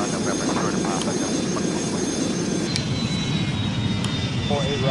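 Simulated airliner engines roar during takeoff in the Airline Commander flight game, a loud, steady, continuous drone with a faint high whine above it.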